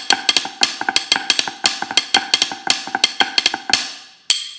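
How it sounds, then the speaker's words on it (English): Sharp drum strokes fall in quick flam pairs, one hand clicking on the rim and the other striking the drumhead, repeated in an even rhythm and ending with a single hit. "right hand on rim, left hand on drum, and it would sound like this."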